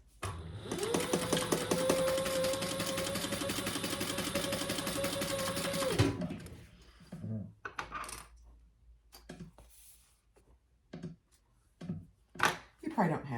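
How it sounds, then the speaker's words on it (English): A sewing machine bastes ribbon in place along the top of a crossbody bag, running in one steady buzzing stretch of about five seconds, then stopping, followed by clicks and handling knocks with a voice talking. "I'm just going to close off that top, just baste that in place."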